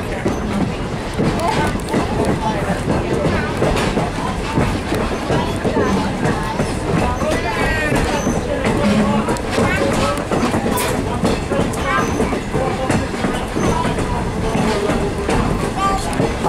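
A train rumbles steadily nearby with rhythmic clacking wheels and faint squeals, while people talk over the continuous noise.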